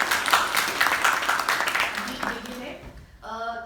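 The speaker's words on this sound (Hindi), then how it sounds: "एक बार फिर आप सब लोगों के लिए जोरदार तालियां।" Applause from an audience at an anti-drug awareness campaign event, a loud burst of clapping that gradually fades out, with a voice starting to speak near the end.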